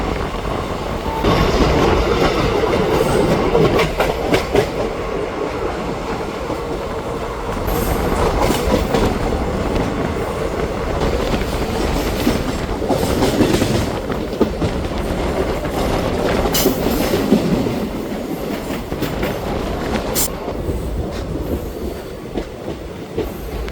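A Nagercoil to Chennai Central weekly express train runs through the night with a steady, loud rumble of wheels on rails, rhythmic clickety-clack and occasional squeals heard from inside the coach throughout.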